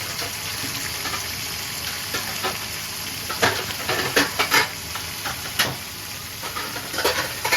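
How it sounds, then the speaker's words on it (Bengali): Vegetables frying in a pan with fried jackfruit seeds, stirred by hand: a constant hissing sizzle broken by sharp scraping and clattering strokes, up close and without speech. "সবজিগুলো দিয়ে একটু ভাজে নেব"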